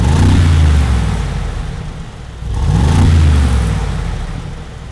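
A 2022 Mercedes-AMG G63 exhaust roars loud and close through two rev cycles, rising to a growl, easing off, then swelling again, with no voices.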